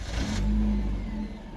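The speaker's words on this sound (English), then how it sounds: "So now the car starts." A Suzuki SX4 engine fires up by remote starter, a brief cranking burst settling into a steady close idle hum, with no voices.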